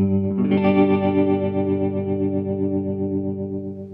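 A Blackstar ID:60 guitar amp plays a sustained chord with three effects engaged at once, giving a shimmering, distorted, chorused tone that rings out steadily and slowly decays.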